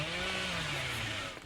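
Leatherface's chainsaw revving in the Dead by Daylight video game, a steady buzzing engine drone held at close range for the whole moment, with its pitch sliding slightly lower toward the end.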